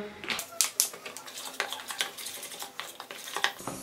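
Spoon clinks and scrapes while used coffee grounds are stirred together with a spoonful of olive oil, a gritty, wet mixture, in short irregular taps close by.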